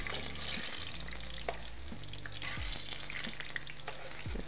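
Ripe plantain fries in a pan with a constant low crackling sizzle and occasional faint clinks and scrapes, steady and fairly quiet, no speech.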